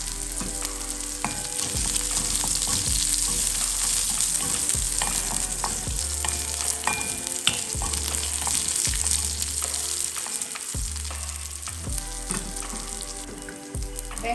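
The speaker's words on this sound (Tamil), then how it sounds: "வெங்காயம்லாம் நல்லா வதங்கிடுச்சு." Onions frying in a pan with three dried red chillies, a continuous loud sizzle broken by repeated scraping stirs of a spoon against the pan, with no talking.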